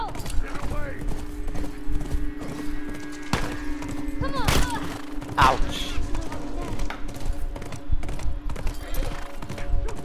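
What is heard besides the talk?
horse hooves in The Last of Us video game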